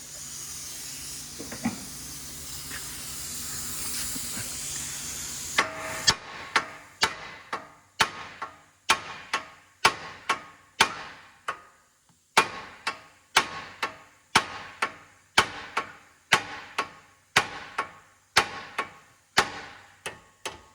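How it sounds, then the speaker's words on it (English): A hammer strikes metal on a 2012 Honda Accord 2.4 during CV axle replacement, in a steady series of sharp, ringing blows, about one per second, each clanging loudly after a brief stretch of hiss. "we're going to use our hammer to hit it right there"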